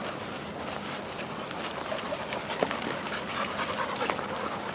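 Young bird dogs pant hard and continuously on a hot summer morning outing, close and fairly loud, with occasional footsteps and faint rustling through cover.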